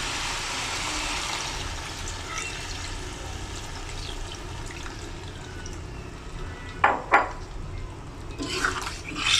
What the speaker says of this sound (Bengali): এখন এখানে জল দিয়ে দেখুন